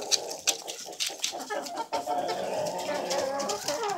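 Ornamental chickens, black and blue hens with a Splash rooster, cluck and call in a close, busy stream of overlapping bird sounds.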